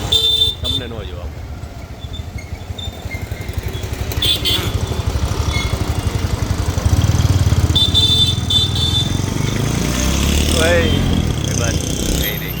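Night traffic on a busy street in Surendranagar, with motorcycles and scooters droning past close by, engine rumble swelling and fading, occasional horn toots, under a steady loud roadway wash.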